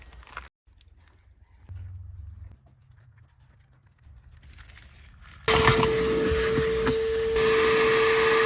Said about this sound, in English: the first thing we're going to do is vacuum and wipe down the inside